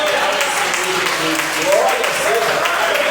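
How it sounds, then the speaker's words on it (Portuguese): A church congregation applauds in a steady wash of clapping while a voice speaks over it, the applause continuing without pause through the short stretch. "eu quero que a igreja desocupe as suas mãos para dar uma linda salva de palmas"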